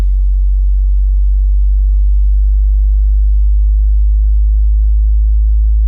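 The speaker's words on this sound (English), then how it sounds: "So it's doing a 30 hertz to 60 hertz sweep." A steady, loud bass sine sweep from 30 to 60 hertz played through a car audio system, a continuous deep hum that rises slowly in pitch with no pauses and no voices.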